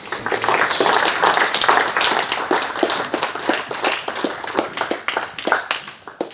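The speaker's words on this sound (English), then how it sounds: "clap to pretend you enjoy the presentation" A sport science symposium audience clapping after a presentation, a brisk crowd of sharp hand claps that carries on steadily and thins out toward the end, fairly loud with no talk over it.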